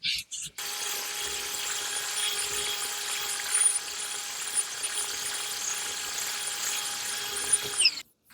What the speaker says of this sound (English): maybe a Brillo pad on a drill to get it off